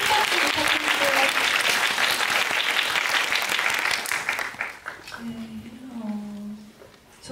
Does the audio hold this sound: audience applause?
yes